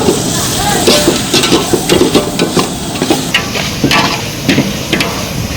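Two kilos of goat head meat curry tipped into a hot pot, giving a busy sizzling hiss broken by repeated clattering knocks and scraping stirs, close and fairly loud.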